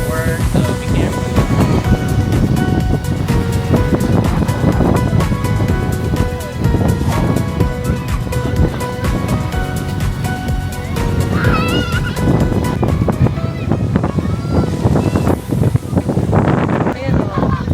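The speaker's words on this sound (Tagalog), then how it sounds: "Sakto lang guys yung hangin dito." Steady wind buffeting the microphone at a summer beach in Bicol, a continuous loud roar with gusty surges, while people talk over it.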